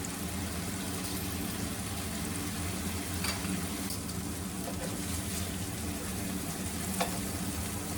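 Food sizzles and spits steadily in a pan over a gas flame, with a few sharper pops among the constant frying hiss, close and even throughout.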